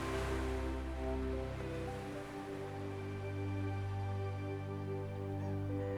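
Ocean waves wash onto a sandy beach in a steady, soft surf roar, distant and continuous, with no voices present.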